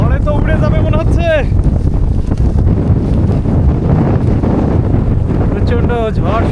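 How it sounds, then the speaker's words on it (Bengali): A fierce Kalbaishakhi storm wind roars across a remote river char island, loud gusts buffeting the microphone without letup, while people shout briefly at the start and again near the end. "প্রচণ্ড ঝড় শুরু হয়েছে।"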